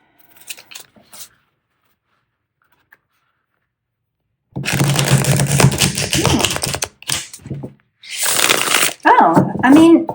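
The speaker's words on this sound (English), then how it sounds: "Dare I even try to shuffle this?" A cracked amethyst tarot deck being shuffled by hand, two bursts of riffling and clacking cards separated by short gaps, close and loud.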